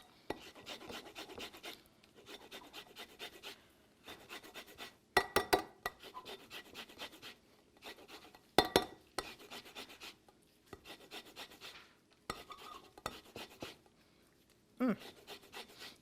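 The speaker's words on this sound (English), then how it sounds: "And now we want to add some lemon zest." Lemon zest grated for a pastry cream, a soft repeated scraping in short rhythmic bursts with brief pauses and a few louder knocks, close and quiet.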